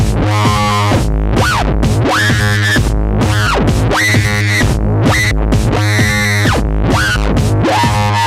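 A synth lead played on an Arturia MiniFreak synth: loud, harsh buzzy tones with repeating upward and downward pitch sweeps over a pulsing low bass, looping in a steady driving rhythm.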